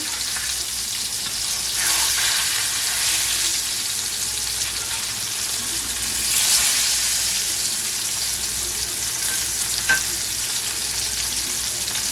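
Breaded pork chops fry in a pan with a steady, close, continuous sizzle and crackle that swells slightly now and then, with no talking over it.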